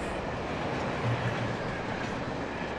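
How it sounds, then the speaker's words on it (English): Train rumbling past in the video game Alan Wake, a continuous heavy low roll with rhythmic wheel clatter, loud and close. "It's a train."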